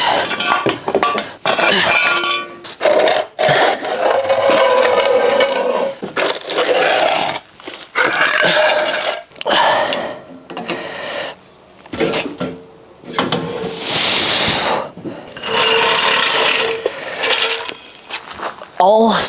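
A BMW being lowered after an oil change, giving repeated metallic clinks and clattering knocks in irregular bursts with short pauses, close and fairly loud, with some voice mixed in.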